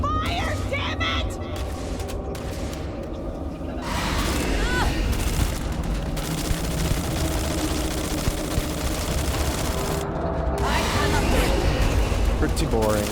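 Gunfire and explosions in the Starfield video game during a Terrormorph attack, with heavy booms and rapid bursts of shots rolling continuously under shouted voices.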